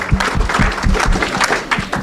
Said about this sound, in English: So big round of applause for all our sponsors.